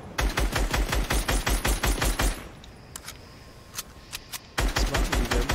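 Automatic weapon fire in the video game Fortnite rattles out in rapid, evenly spaced bursts, pauses for a couple of seconds with a few scattered shots, then resumes loudly.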